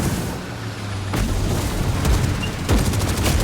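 Gunfire and heavy booms from orc vehicles in the Warhammer 40,000: Speed Freeks video game, a loud, dense barrage with several sharp impacts and rapid bursts over constant engine and battle noise.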